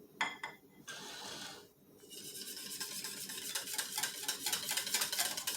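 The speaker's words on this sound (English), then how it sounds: "we are going to whisk in our melted butter" A whisk stirring melted butter into a bread batter in a bowl, faint clinking strokes at first, then quicker, steadier rhythmic whisking that grows slightly louder, with no talking.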